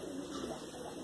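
Pigeons kept by a hobbyist pigeon fancier in India coo softly and continuously, a low steady murmur of several birds close by with no talking.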